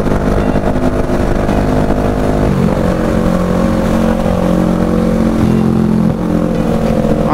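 Honda Goldwing motorcycle on a La Union ride, its steady engine drone loud and continuous with pitch shifts as it cruises past, heard from close by amid road noise.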